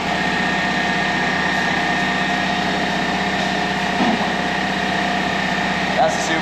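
Forklift engine idling in a home garage, a steady high-pitched mechanical hum with a constant low drone, loud and unchanging, with faint knocks near the end.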